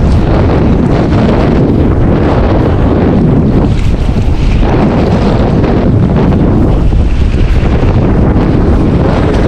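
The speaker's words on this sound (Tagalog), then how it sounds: "Tapos yung hangin malakas." A strong, constant wind roars over a fishing boat at sea, buffeting the microphone in a loud, unbroken rush with waves underneath and no talk.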